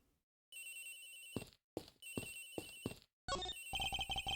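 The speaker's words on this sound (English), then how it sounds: "Agent Hicks' phone! It's ringing from somewhere, sir." A phone rings in the Ace Attorney video game, an electronic ringtone in repeated bursts with short gaps, clear and close with no talking.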